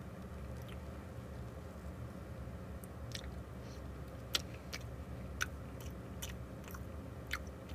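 Soft, moist chewing of castella cake, close up and faint, with a few small clicks and smacks over a low steady background hum.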